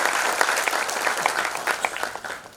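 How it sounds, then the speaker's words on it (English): Audience at a welcome address for an MBA program gives a round of applause, dense steady clapping from a room of people that tapers off toward the end. "I think we should give a round applause to ourselves"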